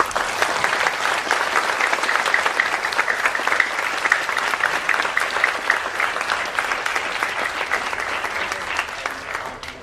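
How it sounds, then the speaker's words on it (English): A hall audience at a high school humanities symposium gives sustained, even applause that holds strong for about ten seconds before easing slightly at the end. "So one last round of applause."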